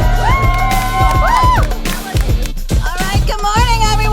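A crowd of audience members cheering and whooping for their school district at a morning community event, loud, close, and layered with shouting and high yells in overlapping bursts.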